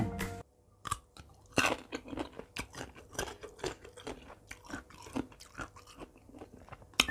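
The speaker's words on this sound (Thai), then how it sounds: "ขออนุญาตกินกับมะม่วงนะคะ นี่ โอ้ยทุกคน มะม่วงปลาดอง ปลาบอง" Close, crunchy chewing of mango dipped in pickled fish dip, a series of wet bites and munches coming in an uneven rhythm, loud and alone without talk.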